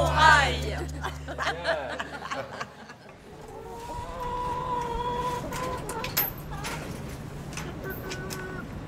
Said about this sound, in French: Alors je viens de donner à manger aux poules des petits morceaux de pain et puis mes déchets de légumes.